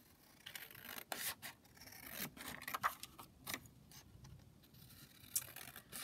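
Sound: trimming paper envelope pieces

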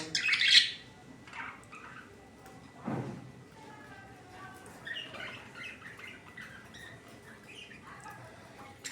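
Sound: budgerigar calls

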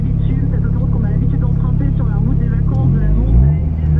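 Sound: race car starting a hill climb run

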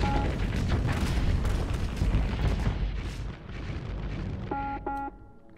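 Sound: Lasher ship exploding in Starsector video game

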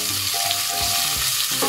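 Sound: onions frying in a pan

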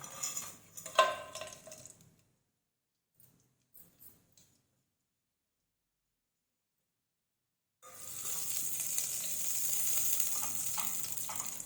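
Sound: whole spices dropped into hot oil, sizzling

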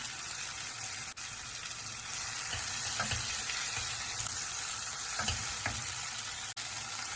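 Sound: marinated chicken added to sizzling kadai gravy

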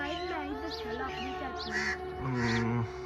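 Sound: crow cawing

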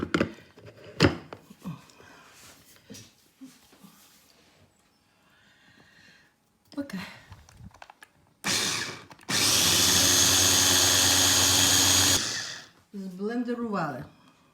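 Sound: blender blending pumpkin cream soup

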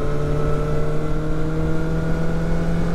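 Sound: BMW S1000R Sport motorcycle accelerating in sixth gear

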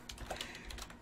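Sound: typing on computer keyboard in Discord

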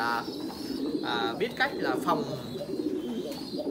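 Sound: pigeons cooing

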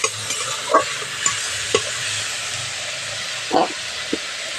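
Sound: spices frying in a pan with turmeric and chili powder

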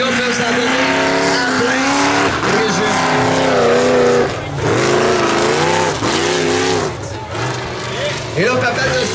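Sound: modified cars racing around a dirt track turn

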